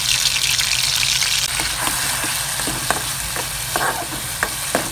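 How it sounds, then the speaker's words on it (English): Garlic frying in oil in a pan, a dense steady sizzle with scattered small pops and crackles, close and continuous throughout. "put the oil and fry your garlic"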